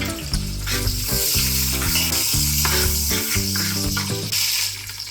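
Fresh coriander, mint and fenugreek leaves hit hot oil in a pan for a paneer soya pulav, sizzling loudly and crackling steadily while a spoon stirs them, with no voices.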